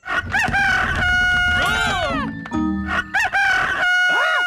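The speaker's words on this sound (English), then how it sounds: "It's the cockerel from the elf farm." A rooster crows loudly several times in succession, close and clear, with long rising and falling calls and a few clucks between them.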